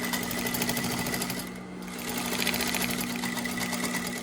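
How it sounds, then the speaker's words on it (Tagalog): A sewing machine stitches fabric for a homemade car cover, its needle running in a fast, steady mechanical chatter that stays close and loud, easing briefly midway before picking back up, with no one talking over it. "all that needs to be done is to use the sewing machine"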